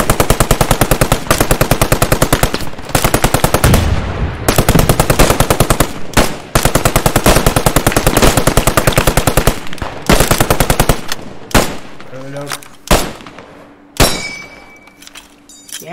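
Sustained bursts of machine gun fire from a crewed gun in the World War II shooter Post Scriptum, at the Haguenau map: long, loud, rapid rattling strings broken by short pauses, then tapering into a few isolated shots and metallic clinks.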